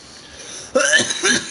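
After a hit of smoke, a nearby person breaks into a few rough, loud coughs in quick succession after a brief stretch of near silence.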